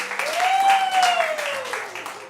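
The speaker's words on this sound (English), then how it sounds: "A round of applause for our oracle" Audience applause at a Theatresports improv show, Albany Machine vs General Eclectics, for a performer: moderate clapping from the crowd with a rising tonal sound sweeping through the middle.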